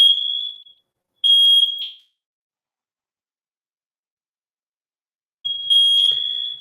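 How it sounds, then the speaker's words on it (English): A high-pitched electronic alarm sounds in three shrill beeps, two close together, then a long silence before a third. "There's an alarm"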